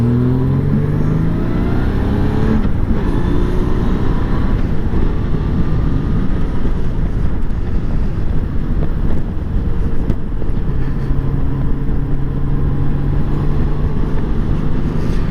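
A Honda GL1500 Goldwing motorcycle cruises along the interstate, its steady engine drone loud and continuous beneath heavy wind buffeting, with a few shifts in engine pitch as it rides.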